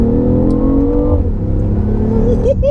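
A 2017 BMW hybrid supercar with an LS V8 swap pulling hard under acceleration, a loud steady engine drone with rising harmonic tones heard from inside the car, no talk over it.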